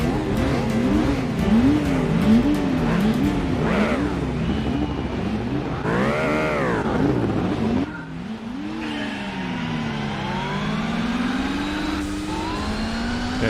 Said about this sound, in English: Yes, listen to the tyre squeals.